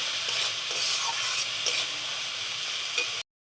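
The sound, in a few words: spice paste stir-fried in a wok (kadai) for fish head curry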